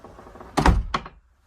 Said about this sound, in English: So coming through that front door,